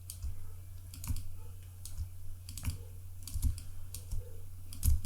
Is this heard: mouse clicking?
yes